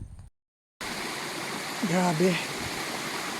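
A mountain stream on Mount Dayuhan in the Cawag hexa climb area rushes with a steady, close, broadband flowing roar after a brief cut, while a voice speaks briefly over it.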